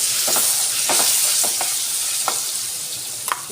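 Brinjal chutney hits a hot pan with turmeric and fries with a loud, continuous sizzle and hiss, punctuated by occasional scraping stirs.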